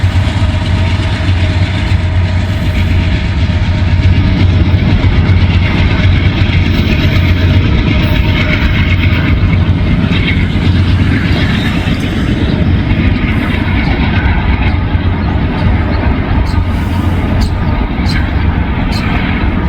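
A BNSF freight train passes on a bright spring day, a loud, steady low engine rumble and rolling roar holding throughout with brief higher clanks and squeals near the end, and a voice talking over it.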